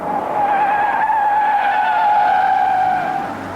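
Car tyres squeal loudly through a fast bend, one sustained skid lasting a few seconds under engine noise.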